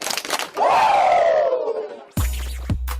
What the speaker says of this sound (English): Give me 2 claps and a Ric Flair